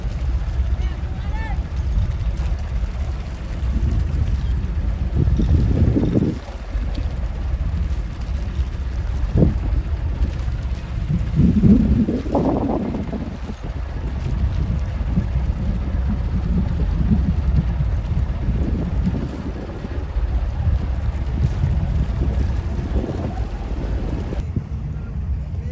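Wind buffets the microphone aboard a fishing boat at sea, with rough waves slapping and the hull rocking in a steady rumble, and people talk briefly over the roar.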